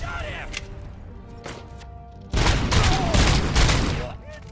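Gunfire in the RoboCop: Rogue City video game, starting with scattered isolated shots and swelling into a loud, dense volley of rapid fire in the second half, with a voice speaking over part of it.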